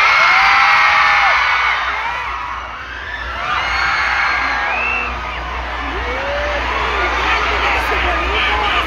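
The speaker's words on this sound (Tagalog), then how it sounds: "Guys, isang sigawan para kay Daddy Ray!" A large outdoor festival crowd at a city charter anniversary in Kabankalan, Negros shouts and cheers loudly for Daddy Ray, whoops and yells rising and falling in waves over a dense roar.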